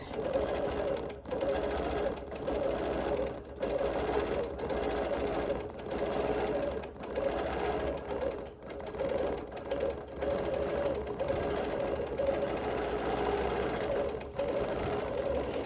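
A sewing machine quilts background stitching around appliqué and embroidery, running in a steady rapid hum with short regular pauses every second or so throughout, close and alone.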